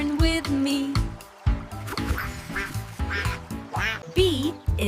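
In a children's alphabet song, cartoon duck quacks land in rhythm over a bouncy backing track, loud and upfront, repeating several times.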